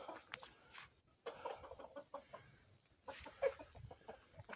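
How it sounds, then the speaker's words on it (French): Hens clucking on a farm in the deep countryside of the Deux-Sèvres, with several birds making irregular short clucks and calls at moderate distance. "Les petites poules."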